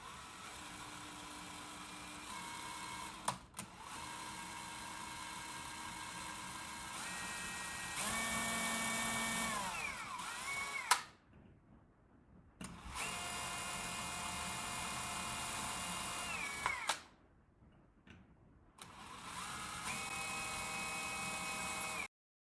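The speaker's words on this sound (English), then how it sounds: "So I'm going to drill this out." Power drill boring holes into wood for a solitary bee hotel build, a steady high whine rising in pitch across several separate bursts with short pauses between them, loud and close with no talking.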